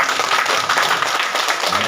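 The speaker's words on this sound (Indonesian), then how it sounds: "Tepuk tangan dulu buat Bu Nuni" An audience claps for a presenter at the close of a business presentation event, a brief burst of dense, steady applause that carries on evenly without pause.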